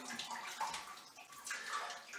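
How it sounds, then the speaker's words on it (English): Wort drains from a grain steeping bag tied above a home-brew pot for a red ale, giving a steady, soft trickle of liquid falling into the pot, continuous and fairly quiet with no talking. "just let it drip until you're pretty much done"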